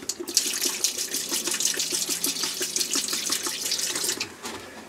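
A KitchenAid dishwasher filling with water and CLR cleaner, a steady close hiss of running water with a faint rhythmic pulsing beneath, continuous for the whole stretch.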